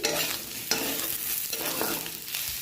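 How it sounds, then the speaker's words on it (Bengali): Curry with potatoes and chilli being sautéed in a pan, a close sizzling fry broken by several sweeping stirring scrapes, loud and steady with no talk. "একটু কষবো। কষে নিয়ে আমি লঙ্কা দিয়ে দিয়েছি।"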